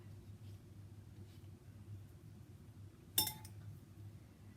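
A metal spoon spreading hot peanut butter bar mixture in a pan gives one sharp clink of metal on the pan against a quiet, steady background hum.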